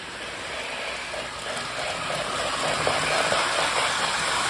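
A Lionel toy steam train with a steam sound effect runs on its track, giving a steady hissing, chuffing rush that holds at a constant level and swells slightly toward the end, close to the listener with no voices.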